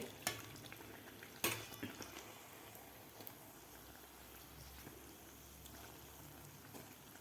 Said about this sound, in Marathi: व्यवस्थित आपल्याला तळून घ्यायचे आहे